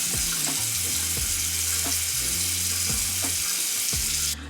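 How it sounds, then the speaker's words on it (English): Water splashes steadily as cleanser is rinsed off a face, a constant close hiss with soft, irregular taps and drips. "and now I'm gonna wash this off."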